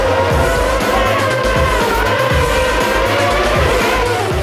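Formula 1 race cars roar past Sainte-Dévote at the Monaco Grand Prix, a dense, continuous wall of high-revving engine noise from several cars at once, loud and sustained throughout.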